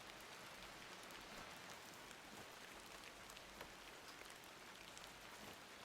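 Steady, even rainfall in the video game Incantamentum, set in England, forms a soft continuous hiss with faint scattered drops, heard alone and fairly quiet throughout.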